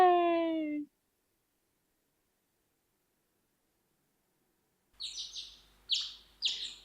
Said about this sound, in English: sunlight streamed in through the window, accompanied by the sounds of birds chirping